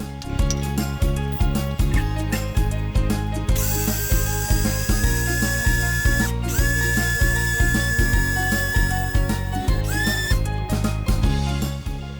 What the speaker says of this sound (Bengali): চলুন তাহলে এখন আমি ধনিয়াটা গুঁড়ো করে দেখাই।